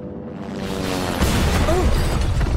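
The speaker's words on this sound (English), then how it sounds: "That sounded like the helicopter crashed." A helicopter crashes in the video game Resident Evil 2 (2019 remake), heard as a loud, broad rumbling impact that swells and sustains for a couple of seconds, with no talk over it.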